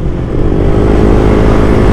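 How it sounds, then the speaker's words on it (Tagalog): A weak, underpowered motorcycle engine runs loud and close, a steady low droning rumble with no clear revving, filling the whole moment. "Walang power yung motor ko, boy."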